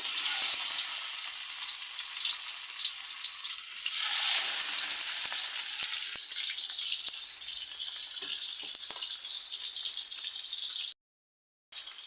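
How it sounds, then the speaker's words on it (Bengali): Bata fish fry in hot oil, a loud, dense sizzle heard close that grows stronger midway as more fish go in, running continuously with no talking before a brief dropout near the end. "তেলটা গরম হয়ে গেছে মাছগুলো দিয়ে দিব"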